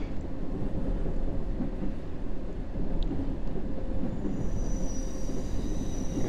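A subway train in the World of Subways 3 game rounds an S-curve, giving a continuous low rumbling roar of wheels and carriage, with a faint squeal appearing near the end.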